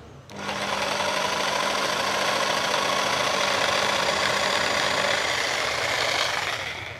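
Jigsaw switched on at its lowest speed setting, a steady buzzing mechanical whir that starts abruptly, runs evenly and close for several seconds, then cuts off, with no talk.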